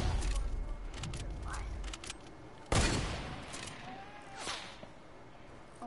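Sniper rifle shots ring out in a zombies video game: a loud sharp crack with a long echoing tail, among earlier scattered gunfire and a later softer burst, with voices talking throughout.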